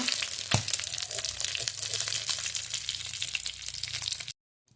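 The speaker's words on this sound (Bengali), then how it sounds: "এবারে দেখো ইলিশ মাছগুলো আমি ভেজে নিচ্ছি" Steady, dense sizzling of fish frying in hot oil, with a sharp clatter near the start, then the sound cuts off abruptly.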